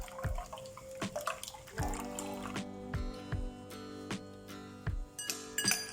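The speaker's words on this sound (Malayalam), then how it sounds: "ഇനി നമുക്കിതുപോലെ ഒരു അരിപ്പയിൽ ഒഴിച്ചു കൊടുത്തിട്ടൊന്ന് അരിച്ചെടുക്കാം" A blended refreshing drink poured through a strainer, a continuous liquid trickle and splash with periodic low knocks and dripping, close and moderately quiet.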